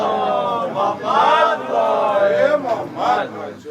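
A crowd at a religious gathering celebrating the birth anniversary of Imam Zainul Abideen chants salawat together. Loud, swelling voices rise and fall in repeated unison phrases, close and strong.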